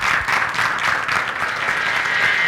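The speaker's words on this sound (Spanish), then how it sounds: "Un aplauso, por favor." A virtual conference audience at a talk on Indigenous feminisms applauds in a steady, dense wash of clapping that holds even and fairly loud throughout, with no talking over it.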